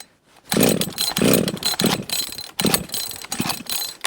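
A Husqvarna 562 XP chainsaw that won't start properly, pulled at full throttle: loud, close bursts of rough sputtering engine noise and starter rattle, cutting out briefly before sputtering again without settling into a steady run.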